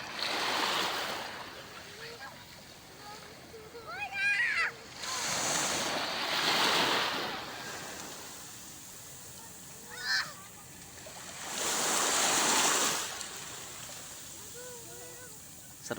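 Waves wash in and break in broad surges several seconds apart, with wind noise on the microphone and a few faint calls between the swells.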